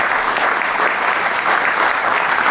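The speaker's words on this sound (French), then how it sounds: "On peut les applaudir, merci beaucoup pour cette présentation riche." A conference audience applauds after a presentation at a national gathering, a dense, even wash of many hands clapping loudly and continuously with no breaks or voices.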